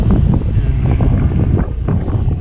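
Wind blows strongly outdoors across a modern housing subdivision in Batangas City, a loud, continuous buffeting roar against the microphone with no voices.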